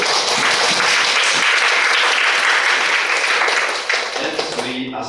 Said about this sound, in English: A big applause for Professor Bourgel.